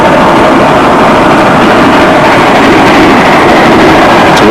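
A train engine working hard as it pulls 24 fully booked cars across a bridge, a loud, steady rumbling roar that holds throughout, with some wind buffeting.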